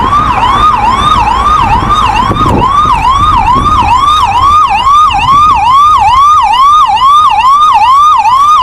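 Loud ambulance siren wails in rapid, repeating rising-falling cycles as the vehicle speeds toward the airport, the siren dominating over faint road noise throughout.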